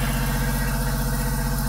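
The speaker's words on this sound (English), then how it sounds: "so you will hear the generator going right now" A boat's generator, on a 2006 Dovercraft custom trawler with a Perkins engine, drones steadily nearby, a constant low mechanical hum with even, unchanging throb and no other sounds.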